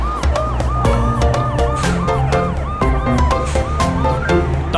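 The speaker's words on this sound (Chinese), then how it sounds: "红警车滴滴呜" A red police car siren wails in a repeating two-tone pattern, loud and close, over bright music from an animated children's song about rescue vehicles.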